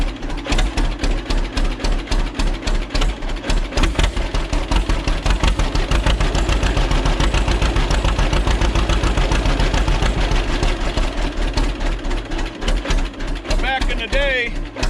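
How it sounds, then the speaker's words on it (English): An old two-cylinder John Deere tractor engine runs steadily nearby, a loud low rhythmic putting thump that continues throughout with people talking over it. "that was a lot of sound that you heard was these old 2-cylinder John Deeres out there working in the field"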